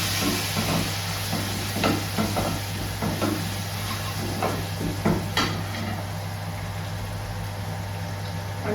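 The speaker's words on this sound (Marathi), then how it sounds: "त्याच्यातच हळद टाकायची आहे आणि थोडंसं फ्राय करून घ्यायचं" Turmeric frying in hot oil for a tempering, a steady close sizzle with scattered crackles and stirring scrapes over a constant low hum.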